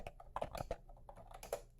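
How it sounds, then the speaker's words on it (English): Typing on a Mofii wireless keyboard with retro round keycaps, a short burst of soft, fairly quiet keystrokes in an uneven rhythm, close up, with no loud clicks and no talking. "so let's try also the keyboard. I just start typing here."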